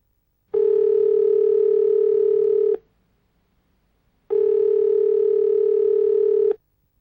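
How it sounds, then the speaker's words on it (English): Two long, steady buzzing ring tones from a telephone in the 1994 Sesame Street CD-i video game, each lasting about two seconds with a pause between, loud and alone. "This telephone can call Big Bird, or the Count, or Elmo."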